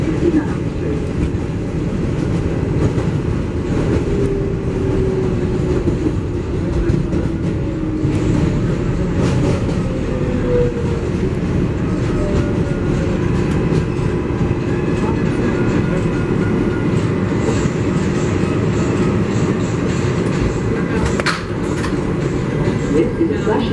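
MTA 7 local subway train heading toward Flushing Main Street, a continuous loud rumble and rattle of the car on the rails with occasional clicks and squeals, under faint onboard sound.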